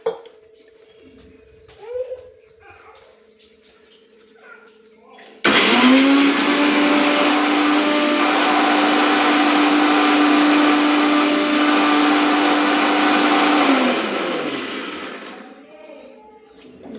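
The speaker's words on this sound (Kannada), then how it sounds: "ಈಗ ಶುಂಠಿ ಬೆಳ್ಳುಳ್ಳಿ ಪೇಸ್ಟ್ ರುಬ್ಕೊಂಡು ಬರೋಣ" A mixer grinder blending ginger garlic paste kicks on abruptly with a loud, high whirring roar, runs steadily for several seconds, then winds down; faint kitchen sounds come before it starts.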